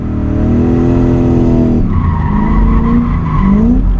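A V8-powered Nissan S14a 200SX drift car slides on dry tarmac, its tyres squealing loudly in long wavering howls over the roaring engine, the pitch dropping and then rising again.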